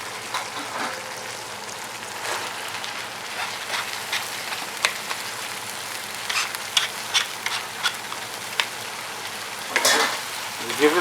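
Bora and chicken frying in a pan, a steady close sizzle with occasional stirring clatter and brief louder bursts of spitting oil.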